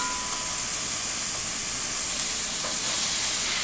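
Chopped Brussels sprouts sauté in a pan, giving off a constant close hiss and sizzle at an even level throughout.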